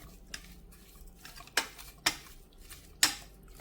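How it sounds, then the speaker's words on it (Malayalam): A spoon scrapes and stirs chicken and onions in a cooking pot, with soft shuffling and three sharp metallic clinks against the pot's side, all close and fairly quiet. "ഇനി ഇത് നല്ലതുപോലെ ഒന്ന് മിക്സ് ചെയ്യാം."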